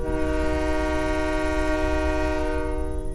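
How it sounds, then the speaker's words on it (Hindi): A train whistle blows one long, loud, steady tone that holds for about two and a half seconds before fading. "हाँ, ट्रेन की सीटी यहाँ"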